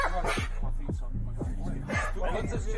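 A police dog barks and yelps repeatedly during a raid to rescue kidnapping victims, loud and close, with officers shouting commands over the barking.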